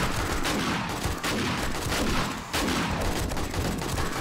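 Gunfire in the video game 7 Days To Die, a dense, loud barrage of rapid shots that runs almost without pause, with a brief dip midway through.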